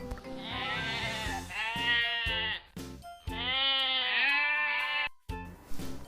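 Goat bleating in a series of loud, close, wavering cries with strong harmonics, several long drawn-out calls broken by short gaps, heard alone without talk on a farm-animal sound clip for kids.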